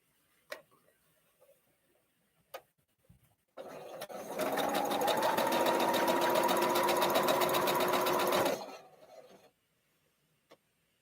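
A sewing machine stitches quilt patches together for a 3-yard quilt, running in one steady, fast, rhythmic burst of about five seconds close up, with faint clicks and handling before and after.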